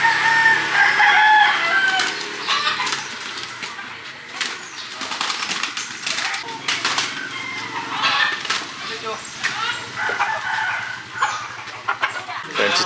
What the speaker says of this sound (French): on tombe sur des gens qui font des combats de coqs